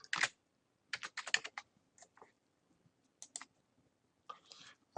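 Rapid bursts of computer keyboard typing as a password is entered, clustered clicks in short runs separated by pauses, close and crisp with no talking.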